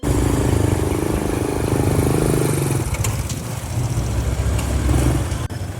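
An online ojek motorcycle rolls up close by, its engine a loud, steady rumble that eases slightly partway through and then swells again, with no voices.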